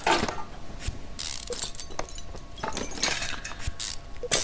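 Engine parts being bolted on in Car Mechanic Simulator 2015, a series of quick mechanical ratcheting clicks and metallic clinks in short bursts with brief pauses between.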